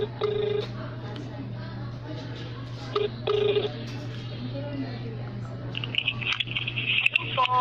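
Phone on loudspeaker dialing a call: several short beeping tones over a steady hum, then a brighter electronic tone near the end, with faint background voices.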